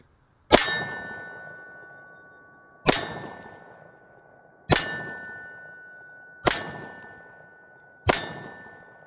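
FN 510 Tactical pistol firing MagTech ammunition, five sharp ringing reports spaced about two seconds apart, each decaying with a metallic ring, loud and close with no talking.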